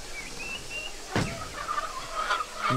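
Dark Brahma chickens in a coop, with several soft warbling calls and clucks scattered through the clip over steady background noise, fairly close, with no talking.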